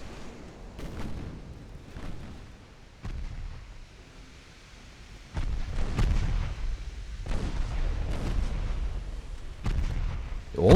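Battleship secondary guns firing in a naval battle game set at the Battle of the Nile, heavy booming reports repeating at irregular intervals, loud and close, with rumbling blasts overlapping and building toward the end.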